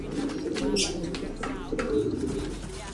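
Breeder pigeons coo steadily in a loft after one escaped its cage, a low continuous burbling close by with a few sharper bursts, constant and fairly loud throughout.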